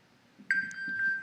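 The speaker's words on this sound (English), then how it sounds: "it's telling me, it's beeping this, my phone" An iPhone beeps after being pinged from an Apple Watch find-phone button: a steady electronic tone sounds continuously from partway in, with faint background noise.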